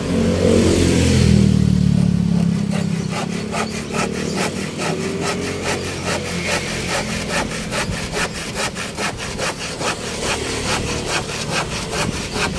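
A hand saw rasps through wood in quick, regular back-and-forth strokes, close and steady, with an engine rumbling at the start.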